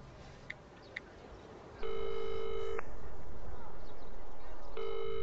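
A telephone rings with a steady electronic tone in a quiet indoor room, one long ring starting partway through and another beginning near the end, after a couple of faint clicks.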